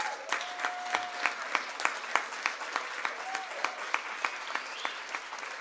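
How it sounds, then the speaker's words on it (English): An audience at a French-speaking association gathering claps in a steady, moderately distant round of applause with rhythmic beats, lasting throughout. "un grand tonnerre d'applaudissements"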